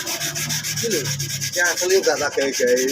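Sandpaper rubs back and forth over a motorcycle's painted surface, a loud, rhythmic scraping heard up close, while someone talks over it.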